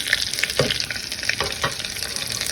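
One medium-sized onion, sliced lengthwise, sizzles and crackles steadily in oil inside a pressure cooker, with occasional stirring scrapes, close and alone.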